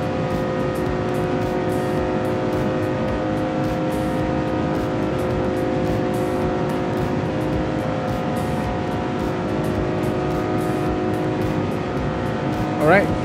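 A powerful pickup truck engine drones at high speed in the driving game BeamNG.Drive, a loud sustained whine with steady tone and a brief rise near the end, with a person talking over it.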